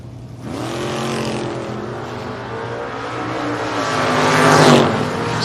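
Drag race matchup between a Grand Am and a 1968 Camaro, engines roaring loud and steady with a rising surge toward the end as the cars pass close.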